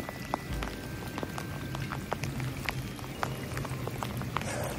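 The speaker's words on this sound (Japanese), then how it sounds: "雨降ってるからね。" Steady rain falling outdoors during a cold bass fishing outing, a continuous dense patter of drops with scattered sharper ticks, evenly loud throughout with no talking.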